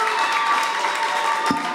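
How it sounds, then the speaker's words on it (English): Applause from the audience at a Vermont National Guard community meeting, a short, steady patter of clapping across the room. "Please give him a round of applause."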